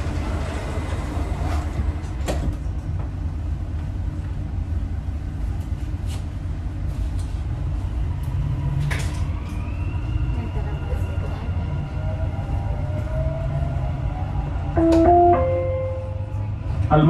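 A Dubai Metro train rolls along with a steady low rumble and faint rail clatter, with a rising electric motor whine and brief squeals near the end; no one speaks.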